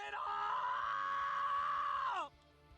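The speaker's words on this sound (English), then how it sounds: "I let out a futile hollow scream." A futile, hollow scream from the Dies irae visual novel: one sustained, loud, strained cry held for about two seconds, then cut off abruptly into quiet.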